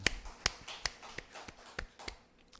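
A church congregation claps in praise, sparse and quiet: about seven distinct sharp claps spread irregularly over a couple of seconds, sounding small and somewhat distant, without talk.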